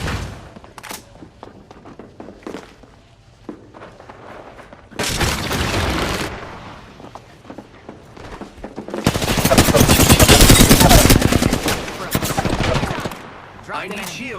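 Gunfire rattles in a round of Apex Legends, first as scattered pops, then a dense burst of rapid shots, a pause, and a longer sustained volley of heavy automatic fire, loud and close.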